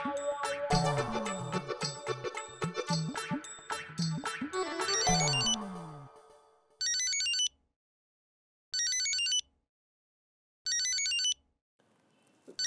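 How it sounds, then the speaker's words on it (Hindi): Loud music-like noise fades, then a telephone rings in three evenly spaced electronic bursts with silence between, followed by the start of a fourth. "मेरे उच्च अधिकारी का फोन है।"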